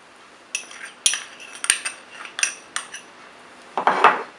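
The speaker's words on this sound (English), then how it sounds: "So in a clean mixing bowl, first of all I will add the all-purpose flour." Metal utensils clink against a mixing bowl as all-purpose flour goes in for chocolate truffles, a series of sharp, close taps and scrapes spaced irregularly, with a brief rustling pour near the end.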